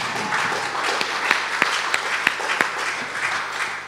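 A church congregation applauds and acclaims God with steady, dense clapping and a few sharper, louder claps standing out, sustained throughout.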